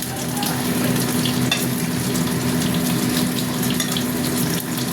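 Fish added to a hot pan with boiled potatoes and eggplant, frying with a steady, dense sizzle that holds at an even, fairly loud level throughout, with no talking.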